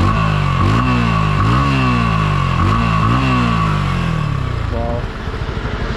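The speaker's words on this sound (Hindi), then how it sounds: "आप लोगों को फिर से एक बार मैं इसका एग्जॉस्ट नोट सुना देता हूँ।" A Yamaha R15 V4 motorcycle, a 2021 model, revs hard several times in quick succession, its exhaust note loud and close, climbing and falling with each blip before it drops back to a rougher idle.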